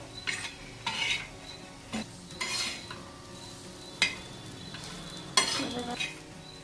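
Spoon stirring salt and chili into a soybean chutney in a pan, soft scraping strokes repeating at an uneven rhythm, close and quiet with faint background hiss.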